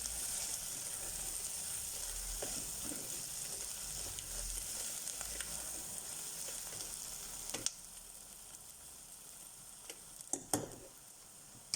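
Kidney bean and potato curry being stirred in a hot pan: a steady close sizzle and frying hiss throughout, with occasional scrapes and clicks of the spoon against the pan near the end and no talking.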